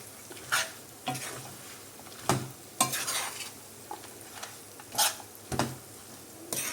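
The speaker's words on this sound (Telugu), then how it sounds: "ఈ ఆయిల్ అంతా దీనికి కలిసేలాగా ఈ విధంగా కలిపేసుకోవాలి" A spoon stirs oil through gongura chutney in a pan, giving about ten short, separate scraping strokes in an uneven rhythm, fairly faint and close with no talking.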